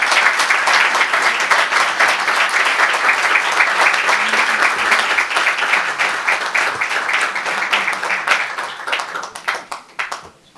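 An audience claps at an award ceremony honouring members at an association's 50th anniversary, a dense, steady round of applause that holds for several seconds and then thins into scattered claps before stopping.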